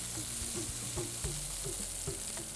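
Millet roasting in a pan over a gas flame sizzles softly and steadily, with faint, regular stirring scrapes against the pan, quiet and close.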